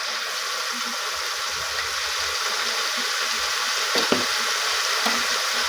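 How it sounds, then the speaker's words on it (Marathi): Spring onion greens stir-frying in hot oil in a village-style home kitchen give a steady, loud close sizzle, broken by a couple of sharp stirring scrapes near the end, with no talking. "आता आपण कांद्याची पात तेलात हलवूया."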